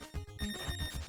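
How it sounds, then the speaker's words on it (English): A mobile phone rings in a nearby room, a rapid repeating electronic trill that pulses steadily in short bursts, moderately faint at this distance. "can you get your phone? It's really loud."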